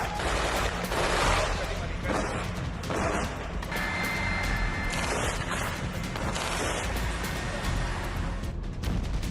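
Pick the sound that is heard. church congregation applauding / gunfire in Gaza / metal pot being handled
gunfire in Gaza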